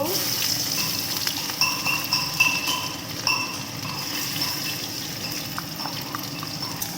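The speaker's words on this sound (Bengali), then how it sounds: "দেখো তেলটা গরম হয়ে গেছে, এরপর জিরের ফোড়ন দেব। এরপর পেঁয়াজ দেব।" Cumin seeds and onion frying in hot oil in a pan, a steady close crackle and sizzle with occasional stirring scrapes and faint clinks throughout.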